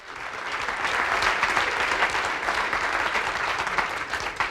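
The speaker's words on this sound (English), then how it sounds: "That was your wonderful round of applause for your wonderful performance this evening" Audience applause after an evening stage performance, a full, sustained wash of many hands clapping in a hall, swelling and holding steady with no voices over it.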